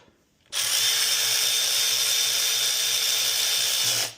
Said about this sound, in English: I am going to use my little electric ratchet just to run them down